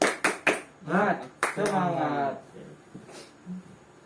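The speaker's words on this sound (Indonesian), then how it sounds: "Tepuk semangat" A classroom of students claps the 'tepuk semangat' chant: a few sharp, close hand claps in a set rhythm, with group voices chanting between and after them.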